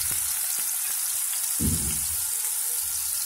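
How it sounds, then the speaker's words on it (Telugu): Paste of onion, ginger, garlic and coriander hitting a hot pan for a fish curry, a sudden burst of sizzling midway over a low steady hiss, with a few light clicks before it. "ఇప్పుడు మనం వేయించుకుందాం ముద్ద వేసి."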